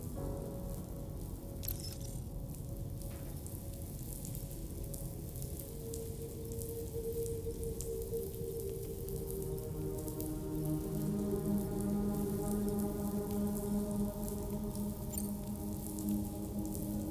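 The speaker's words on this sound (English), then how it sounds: "Raindrops are falling on my head" Rain falling in the video game Death Stranding 2, a soft continuous patter of drops on surfaces with scattered ticks, under faint sustained tonal game music that swells midway, no voices.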